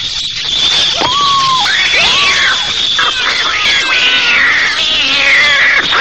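Cat thrown among hungry rats in a film screaming and caterwauling in repeated drawn-out wails over a loud, dense background of squeals and noise.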